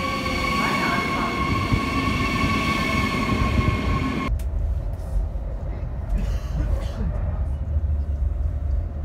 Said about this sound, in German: Gleis 16 Einfahrt der L11 nach Düsseldorf